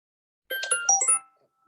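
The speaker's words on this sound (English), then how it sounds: "Sorry, guys, that's my phone because I'm logging into ChatGPT." A mobile phone gives a short melodic notification chime of a few quick bright tones, lasting under a second in an otherwise quiet indoor room.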